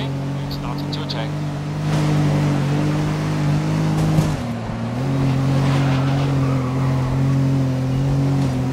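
Race cars idling and revving on the grid before a night race in the racing video game GRID (2019), a loud steady engine drone with a brief pitch dip midway and rising again.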